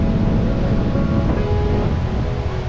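Sea waves at Chothavilai Beach in Kanyakumari roar in a steady, dense wash of surf, close and loud throughout, with some wind buffeting and no voices.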